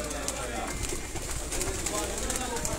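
Pigeons coo continuously at close range, their low throaty calls layered over a noisy background of birds, and people can be heard talking.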